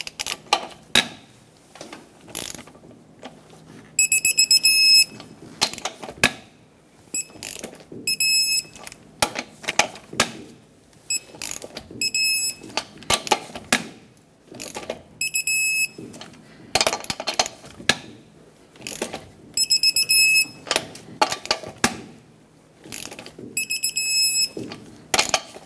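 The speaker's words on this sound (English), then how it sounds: "There you have it, wheels torqued." A torque wrench tightens the wheel lug nuts of a 2000-2005 Ford Excursion to 148 foot-pounds in a cross pattern, with repeated clicks and clacks and short high electronic beeps recurring in bursts.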